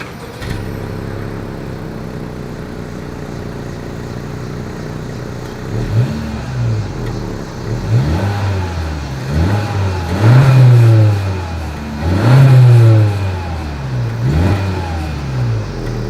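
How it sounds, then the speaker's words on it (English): A 2020 Honda Civic EX hatchback with a dual exhaust outlet setup idles, then revs up in several sharp, loud bursts that rise and fall back, close to the tailpipes with no talking. "As always, here is that exhaust clip."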